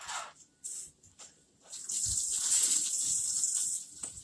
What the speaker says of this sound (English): you probably want to wash your hands right now